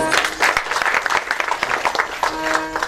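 Audience applause for a singer at a Marathi devotional kirtan gathering led by Sadanand Maharaj Kshirsagar, a dense steady clatter of many hands filling the space throughout, with brief talk over it.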